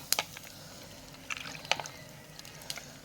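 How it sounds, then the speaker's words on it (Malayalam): Tamarind water poured into a clay pot while cooking a tuna curry, heard as faint splashes and drips in short bursts over a quiet background. "പുളിവെള്ളം ഒഴിക്കാം കേട്ടോ"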